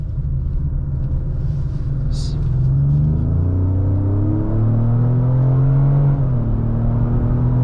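A 2025 Ford Explorer ST-Line heard from the cabin as its engine accelerates under full throttle, a steady loud rumble that rises in pitch through a gear change, with road noise underneath.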